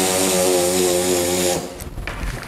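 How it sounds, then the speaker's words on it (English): A 3-inch dual-action sander fitted with 60 grit sandpaper grinding on fiberglass, giving a loud, steady high-pitched whine that winds down about halfway through, followed by faint scraping. "you want to switch over to the 3-inch. And I've got 60 grit sandpaper on it so we can get into these little holes"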